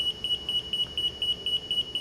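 A residential forced-air HVAC filter monitor alarm beeps in a fast, even series of short, high, piercing electronic beeps, about four per second, close and clear over a low hum from the system.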